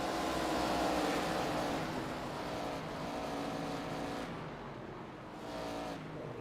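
Stock race cars lapping North Wilkesboro Speedway, a dense continuous engine roar from several cars at once, steady and loud with slight swells as they pass, carrying no audible talk.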